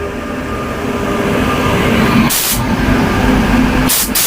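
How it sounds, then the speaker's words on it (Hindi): Bareilly–Delhi passenger train rumbling past at close range, a steady loud roar of rolling wheels and carriages with two brief hissing bursts of air, no voices. "ये है बरेली दिल्ली पैसेंजर।"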